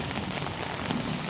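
Rain falls on a terrace garden full of potted plants and flowers, a soft, even patter of drops on surfaces, steady and fairly quiet with no speech.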